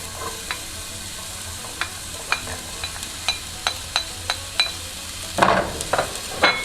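Onions and garlic hit olive oil heated over a medium flame in a pan, giving a steady sizzling hiss punctuated by regular spatula taps and stirring scrapes, then a louder burst of sizzle near the end, with no talking.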